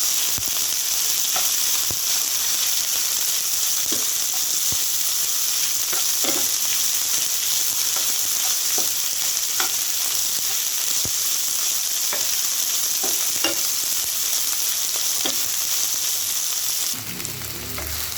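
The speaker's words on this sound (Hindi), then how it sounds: "अब इसके अंदर डालेंगे हम भिंडी। मिलाएंगे।" Okra sizzles steadily in a pan of hot oil with cumin seeds fried until red, in a dish cooked without onion or garlic. A dense, close hiss runs throughout, with soft clicks and scrapes as the pieces are stirred.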